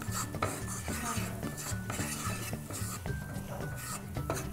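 Wheat flour frying in hot oil while being stirred, with repeated scraping and clinking of a utensil against the pan over a soft sizzle, close and busy for a few seconds beside light background music.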